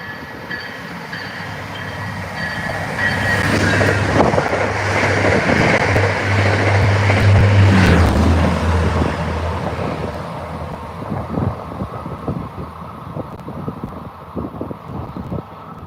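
A subway train at Forest Hills roars in fast and rattles loudly over the track switches, a near, heavy rumble with clanking wheels that swells and then breaks into sharp irregular clatters as the cars pass.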